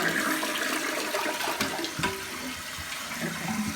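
A toilet flushes after its fill valve and flusher have been replaced, a loud rushing gush of water that runs on steadily, close up with no voices.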